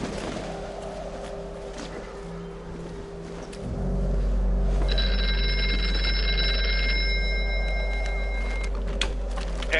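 A telephone rings in the VR horror game Here They Lie, a sustained electronic bell tone over a dense droning game soundscape that swells louder partway through, with no speech.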